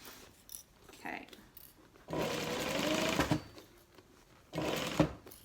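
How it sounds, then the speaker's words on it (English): A sewing machine back-stitches over the straps of a tote bag, running in two loud bursts of steady mechanical whirring separated by quieter pauses, close by. "back stitch over the straps when you get to them"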